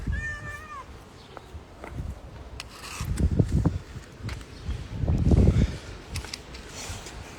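A cat meows clearly at the start, followed by soft rustling, bumps and shuffling sounds nearby.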